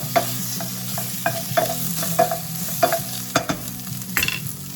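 Minced garlic sizzles in a hot pan, a steady close frying hiss broken by repeated scraping stir strokes and utensil taps, with no voices.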